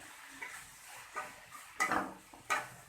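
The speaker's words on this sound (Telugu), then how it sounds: "ఓకే చూపిస్తాను ఇలా ఫ్రై చేసేసుకోవాలి" Utensil scraping and stirring in an oiled pan while cooking gongura, several separate clinks and scrapes at close range with faint background sizzle and no talk.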